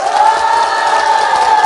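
A loud, dense crowd roars and cheers continuously for a brief moment.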